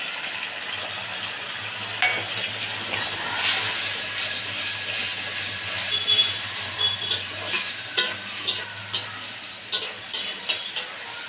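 Coriander, cumin, turmeric and chilli powders with salt hit hot oil for a fish head curry, bringing a loud, steady hiss and sizzle while a spoon stirs, scraping and clinking against the pan in quick strokes.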